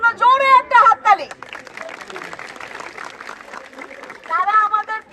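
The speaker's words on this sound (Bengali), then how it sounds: "তাদের জন্য জোরে একটা হাততালি" Crowd applause for the children at an election rally in Bangladesh: a few seconds of dense, moderately loud clapping, with a woman's amplified speech before it and again as it fades.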